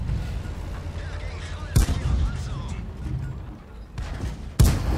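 Tank cannon fire and battle noise in World of Tanks, with two sharp, loud shots standing out against a dense, continuous rumble of combat.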